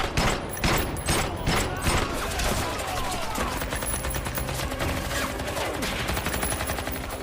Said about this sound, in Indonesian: Dan ketika Lulang juga hendak ditembak